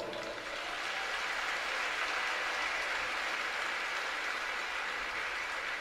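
A figure skating crowd at an ice rink exhibition gala gives sustained, even applause that fills the arena after a performance, with no speech on top.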